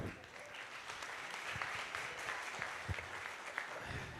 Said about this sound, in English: Let's give a better clap.